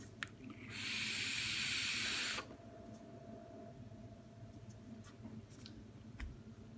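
Vapour hisses from a Bellus atomizer on a Reuleaux RX200 e-cigarette in one steady draw of about a second and a half, then stops, leaving a quiet room hum.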